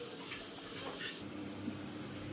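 Onions, ground spice paste and curry leaves sauté for a beef curry, giving a steady soft sizzle and hiss with faint scraping stirs, close and continuous with no talking.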